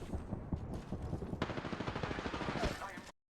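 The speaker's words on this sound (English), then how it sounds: "before this gunshot misses, because I did miss" Rapid gunfire in the Apex Legends video game, a dense burst of loud automatic shots repeating steadily for about three seconds with a louder crack partway through, under faint background game noise.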